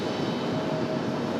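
An American Airlines Boeing 737-800 inbound from Dallas Fort Worth on arrival, a broad steady engine roar held at constant loudness for a moment, with no voices.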